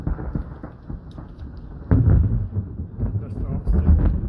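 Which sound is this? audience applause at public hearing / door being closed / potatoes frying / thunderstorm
thunderstorm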